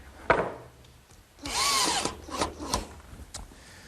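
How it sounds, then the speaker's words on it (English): A power drill drives a screw into the center of a wooden bed post in a woodworking shop, giving a short whirring burst around the middle with a few sharp knocks before and after. "so I'll just fasten a screw to the center of the post"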